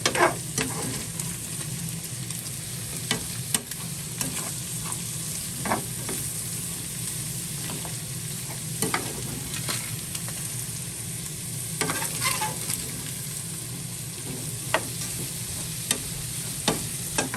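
Bolognese sauce sizzling in a pan while being mixed and stirred, a constant frying hiss with regular scraping and tapping strokes of the spoon throughout, close by.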